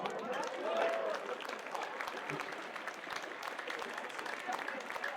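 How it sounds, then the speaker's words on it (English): Sustained applause from a high school assembly crowd at a Hispanic Heritage celebration, steady dense clapping filling the hall for several seconds, with some voices mixed in. "Please give a round of applause."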